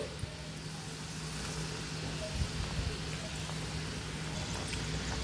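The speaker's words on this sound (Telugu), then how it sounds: "గవ్వలు వేగడానికి కాస్త టైం పడుతుందండి ఇవి నిదానంగా మెల్లగా ఫ్రై చేసుకోవాలి" Gavvalu, small shell-shaped festival sweets, deep-frying slowly in hot oil, giving a steady low bubbling hiss that stays even and fairly faint throughout with no talking over it.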